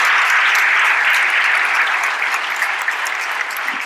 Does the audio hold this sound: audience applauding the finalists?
yes